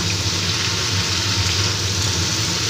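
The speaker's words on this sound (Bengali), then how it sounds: "সব কিছুই একসাথে আমি ভেজে নেব" Boiled Malabar spinach fries in a pan with slit green chillies, chopped onion and tomato, giving a dense, continuous sizzle and crackle close up, steady and loud from start to finish without any talk.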